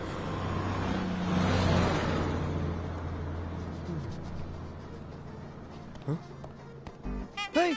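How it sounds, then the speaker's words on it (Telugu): A bus pulls away and drives off, its engine rumble swelling close by and then fading into the distance, followed by people talking. "బస్ వెళ్ళిపోయింది"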